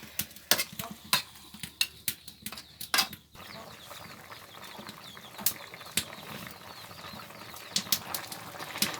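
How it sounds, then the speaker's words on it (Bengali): Fish and flat bean curry being stirred in a pan, with sharp, irregular scrapes and clinks of a utensil against the metal at first, then a steady low simmer with occasional light taps. "ভালো করে নাড়াচাড়া দিয়ে দিতেছে যাতে সিমগুলোর সাথে মাছগুলো একদম সুন্দরভাবে মিশে যায়"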